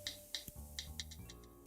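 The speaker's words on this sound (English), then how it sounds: "And I have the calculator app. Look at that, and listen to the sound it makes." An iPhone calculator app makes a quick run of light, crisp key-tap clicks, about eight taps in an uneven rhythm, faint and close by, with no one talking.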